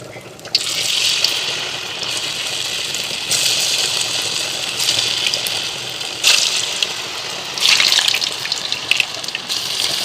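Chicken balls dropped into hot oil in a home kitchen, a sudden bright hiss and crackle of frying that comes in bursts, swelling as more pieces go in and bubbling steadily between them.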